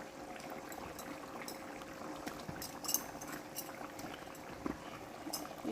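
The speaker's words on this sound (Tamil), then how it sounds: "குழம்பு நல்லா மசாலாலாம் கொதித்து நல்லா சூப்பராக வந்துருச்சு" A pot of masala kuzhambu with eggs bubbles at a steady simmer, a faint continuous gurgle with small pops and occasional sharper bursts rising above the soft boil.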